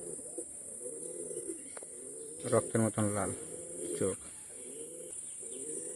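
Feeder pigeons kept in a pigeon seller's loft coo softly in low, repeated murmurs throughout, with brief chirps. Someone speaks briefly in the middle, louder than the birds.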